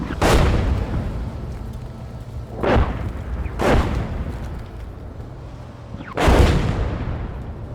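Artillery shells strike around a T-54 tank in the PC game Gunner HEAT, four heavy booming impacts spaced irregularly, each a sharp blast with a rumbling tail over steady engine drone.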